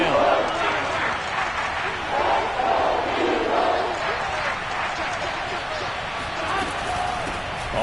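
A football stadium crowd roars steadily through a big third-down play, a continuous loud wash of cheering and yelling that never lets up.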